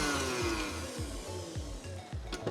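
A hand mixer whips mascarpone chantilly cream in a bowl, its motor humming steadily close up with a rhythmic pulsing as the beaters cycle, no talk over it.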